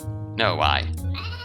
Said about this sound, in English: So, there's a goat.